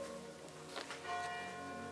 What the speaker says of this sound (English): Listen to that. The church bell.